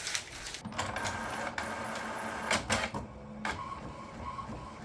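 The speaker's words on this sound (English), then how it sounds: "Printer's eating my calibration paper." An inkjet printer feeds calibration paper, giving quiet whirring motor runs broken by clicks and clunks from the feed mechanism, close by with no talking.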